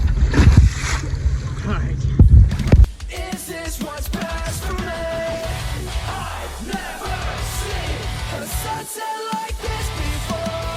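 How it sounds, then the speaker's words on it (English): A canoe paddles through big waves on the Mississippi River, with heavy splashing and wind buffeting the microphone at first, then the rushing water and paddle strokes settle into steady churning. "Two big waves came up from nowhere. I scrambled to paddle and record at the same time."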